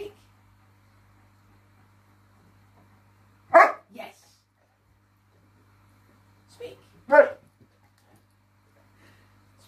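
A dog barks twice in close pairs, separated by a few seconds of near silence over a low steady hum.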